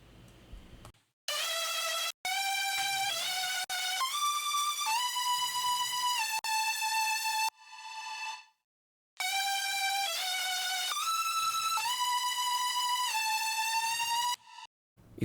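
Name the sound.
synth lead line with pitch bend and vibrato, future bass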